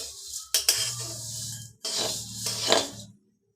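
Food scraped and stirred in a metal pan as it fries to a reddish brown for a vermicelli dish, two long rasping, clinking passes broken by a brief pause, close and moderately loud with no talk.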